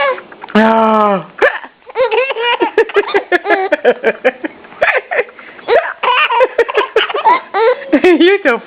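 A baby hiccups repeatedly between bursts of giggling and babbling, close and loud, while an adult voice talks softly over the top.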